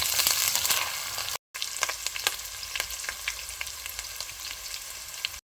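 Whole spices roasting in a hot pan for beef paya, a steady bright sizzle with crackling pops and a scrape or two, briefly cut off by a short gap, no voices.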